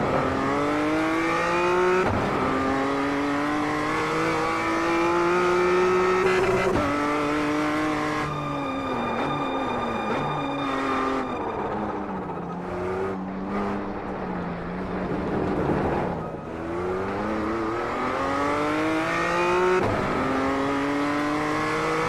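A race car engine in the iRacing sim revs up and down through repeated gear changes, with rising and falling pitch sweeps, brief cuts between shifts and occasional tire squeal, loud and continuous without talk.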